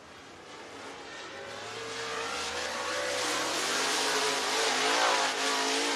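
Race cars circle Talladega Short Track in Talladega, Alabama, the engine roar swelling steadily over six seconds as the pack draws nearer, a broad sustained drone with no voices.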